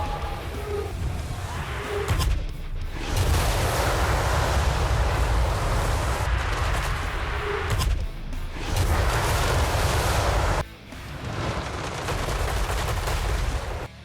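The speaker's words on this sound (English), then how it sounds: "It's just a bunch of shots literally being thrown, kind of like you would expect out of a cluster fire out of a cannon." Cluster shot cannon fire from Total War: Warhammer 3, a dense, continuous roar of many shots and impacts crashing together in long sustained bursts with brief gaps, loud and noisy like heavy surf.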